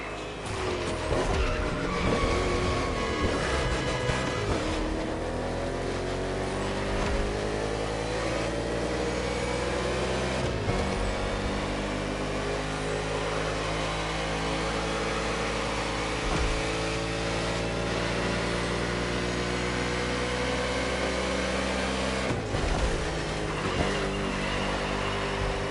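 Racing car engines in The Crew Motorfest roar and rev steadily with sweeping pitch changes and gear shifts, loud and sustained throughout with no talk.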